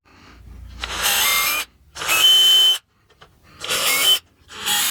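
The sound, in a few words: drill pre-drilling holes in wood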